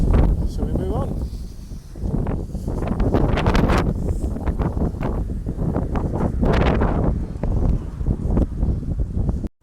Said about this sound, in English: it gets ridiculously windy over the next 25-30 seconds. You just can't hear anything except wind noise